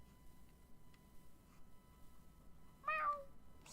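A single cat meow, brief and fairly close, rising then falling, against a quiet room with faint background hum.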